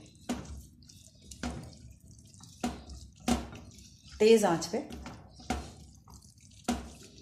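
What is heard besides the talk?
water being poured into a pan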